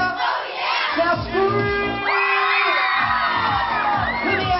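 A crowd of children at a bat mitzvah party screams and cheers together, a loud, sustained wave of overlapping high shouts and whoops that swells and dips but never stops.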